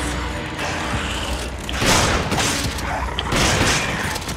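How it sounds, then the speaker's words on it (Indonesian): Two gunshots ring out in Resident Evil 5, sharp loud blasts about a second and a half apart over a continuous noisy game background. "Dua kali tembakan."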